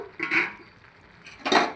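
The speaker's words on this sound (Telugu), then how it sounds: "ఐదు నిమిషాల తర్వాత మనం మూత తీసి ఎలా ఉందో" A lid is lifted off a cooking pot of simmering white gongura, with two short metallic clinks a moment apart, close and fairly clear.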